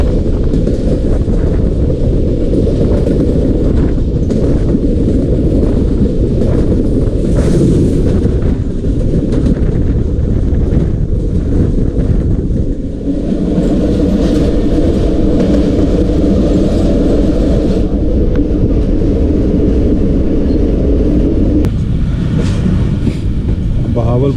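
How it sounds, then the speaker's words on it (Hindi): The 13 Up Awam Express passes close by on the opposite track, heard from aboard the Jaffar Express in Pakistan, a loud continuous rumble and clatter with heavy wind buffeting and a voice talking over it. "सामने से जो है वो 13 अप अवाम एक्सप्रेस आ रही है, उसका क्रॉस है"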